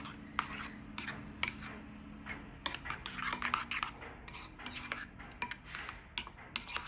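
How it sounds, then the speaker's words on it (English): Quinoa breakfast bowl ingredients being mixed until combined, heard as steady clinking and scraping of a utensil against a bowl in an irregular run of strokes, close and fairly quiet. "I'm gonna mix it until it's well combined."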